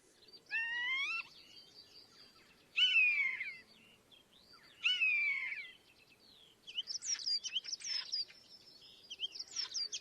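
Several birds, collared doves among them, call in repeated bursts of bright, harmonic chirps, followed by a denser run of rapid, overlapping chattering notes, fairly close and clear over a faint steady background.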